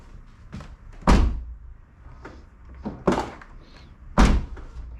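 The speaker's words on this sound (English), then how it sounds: "when you open the door, for example, like this, stay like this." Door of a McLaren 570 supercar with its shock absorber, swung and shut several times with heavy thunks and softer movement sounds between them, close up.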